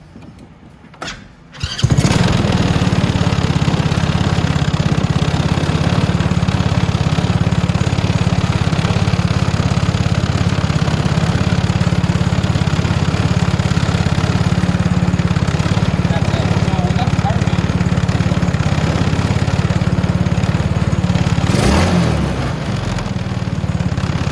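A Venom Mini Jeep 125cc engine fitted with a VM22 carburetor starts after a brief crank and then runs at a loud, steady buzzing idle close by, with a slight dip in revs near the end.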